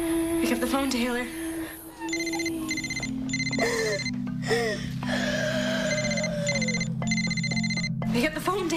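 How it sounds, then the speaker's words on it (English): A telephone rings in repeated bursts of bright electronic trilling, steady and fairly close, with voices talking over and between the rings. "Pick up the phone, Taylor."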